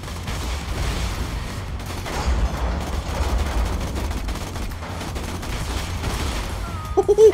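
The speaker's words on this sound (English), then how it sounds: "Shoot the gate with the cannon now!" Cannon fire in Borderlands blasts at a gate as a dense, rumbling barrage of gunfire and booms rolls on throughout, with a few sharper hits near the end.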